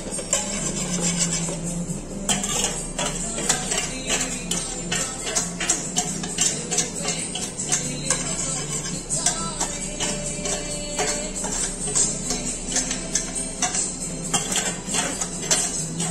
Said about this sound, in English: Now mix in milk.